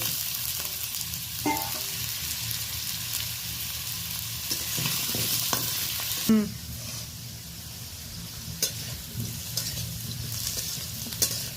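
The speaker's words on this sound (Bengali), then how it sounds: "তেলটা মোটামুটি গরমও হয়ে গেছে লবণ হলুদ দিয়ে আলুটা হালকা লালচে করে ভেজে নেব" Potato pieces fry in hot oil with salt and turmeric, a steady close sizzle with occasional stirring scrapes and clinks of a utensil against the pan, no one speaking.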